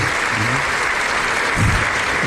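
Dense audience applause fills the whole short stretch, loud and steady, from a public crowd at a live show, with a faint voice briefly showing under it.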